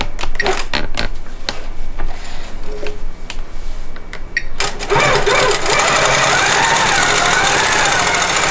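A longarm quilting machine sews binding onto a quilt on its frame, first with separate clicks and taps, then with a loud, steady, rapid mechanical hum that runs to the end.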